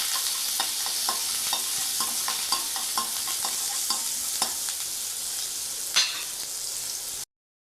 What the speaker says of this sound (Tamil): கட் பண்ணி வச்சு வெங்காயத்தை போட்டுக்கலாம். போட்டு அதையே நம்ம நல்லா வதக்கணும்.